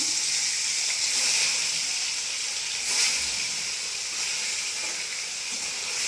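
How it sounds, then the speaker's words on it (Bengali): Bele fish sizzles in hot oil in a home kitchen pan, a loud, continuous hiss with no talk over it, swelling slightly once or twice. "পুরা তেল হয়ে গেছে, এই যে মাছ দিয়ে দিলাম"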